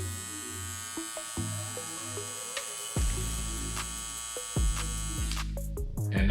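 A Cocco hair clipper motor runs with a close, steady electric buzz and strong hum, its tone shifting slightly as it switches and restarts partway through.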